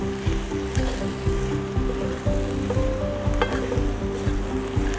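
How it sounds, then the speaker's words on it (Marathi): Dry spices, turmeric and chili powder, fry in hot oil for a tempering, a steady close sizzle with rhythmic scraping thumps of stirring and a faint tonal hum in the background, no talk. "हे कच्चे मसाले जे आहेत किंवा सुके मसाले ते पण एक दोन मिनिटे फोडणीमध्ये परतून घेऊया"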